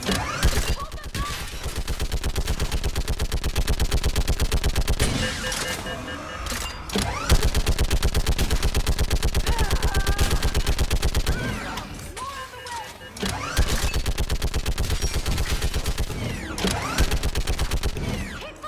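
Sustained rapid gunfire from a mounted gun in the Mass Effect 3 video game, loud and dense with brief lulls, mixed with mechanical clatter and game effects.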